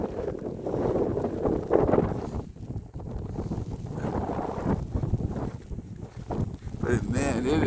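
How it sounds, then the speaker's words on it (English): Strong blizzard wind roars and buffets the microphone in deep snow, a steady loud rush with gusts throughout and no break. "It is strong wind. A blizzard."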